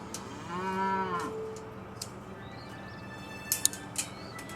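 A Jersey dairy cow on a farm gives a low, drawn-out moo up close, followed by quieter background noise and a few faint high chirps.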